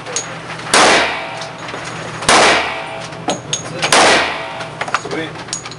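Three loud gunshots ring out at an indoor shooting range in a Las Vegas gun store, evenly spaced about one and a half seconds apart, each with a sharp crack and a reverberant tail, with faint voices and smaller clanks between.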